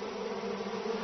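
Angry wild honeybees buzzing around their hive in the countryside, a steady droning hum of many insects close by, continuous and unbroken with no voices present.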